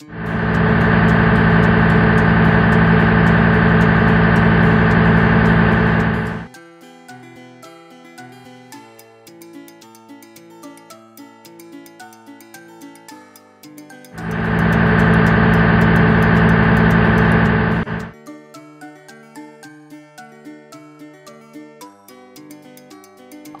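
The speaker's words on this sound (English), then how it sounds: "All-terrain vehicle motorbike." A steady, loud all-terrain vehicle engine drone plays in two long bursts, with quiet background music filling the gaps between them.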